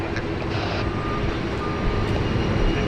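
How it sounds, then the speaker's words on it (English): China Southern Airbus A380 bound for Guangzhou rolling for takeoff from Sydney Airport, a steady, loud broadband jet-engine roar with constant low rumble, plus a few brief thin tonal beeps over the continuous noise. "China Southern 326 heading back to Guangzhou, Airbus A380"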